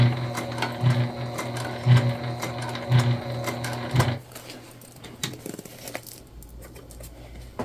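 A sewing machine stitches a crossbody bag, a loud rhythmic mechanical whir with regular clunking beats for about four seconds before it stops, leaving quieter background handling noise.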